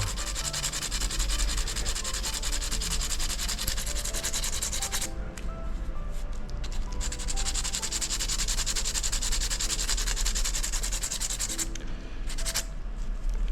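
Continuous hand sanding of a custom art toy figure, a steady rough rubbing scrape that runs on without pause, close and fairly loud, with a couple of brief lulls.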